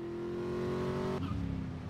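A car driving fast in GTA gameplay, with a sustained engine drone that shifts abruptly partway through like a gear change, then a rougher rising rev, loud and continuous.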